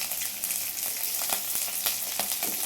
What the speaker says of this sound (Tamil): ஜீரகம் அப்படியே பொரிஞ்சிருச்சுன்னா